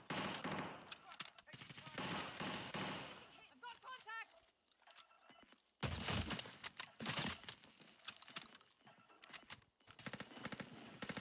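Gunfire in the video game Fortune's Keep, with rapid automatic bursts and dense battle noise filling the clip while a voice talks over it.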